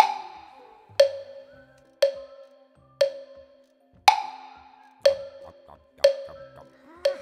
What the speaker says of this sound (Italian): Prendiamo ora questa pulsazione di 4 battiti.